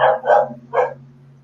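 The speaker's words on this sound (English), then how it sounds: "There's my dog again." A pet dog barks close by, three loud barks in quick succession, with no talking over them and a steady low electrical hum running underneath.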